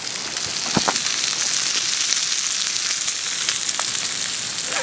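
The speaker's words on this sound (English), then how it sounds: "Trangia cooking some bacon and eggs." Bacon and eggs sizzle and spit steadily in a hot pan on a Trangia camp stove, a close, continuous crackling fry with occasional pops.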